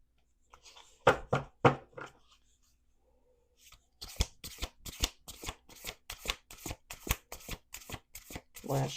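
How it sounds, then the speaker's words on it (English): Cards are riffled and bridged close by, a short burst of snapping flicks, a pause, then a longer rapid run of crisp card slaps. "Last shuffle, last shuffle, last shuffle."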